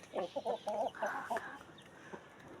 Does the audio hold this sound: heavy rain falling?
no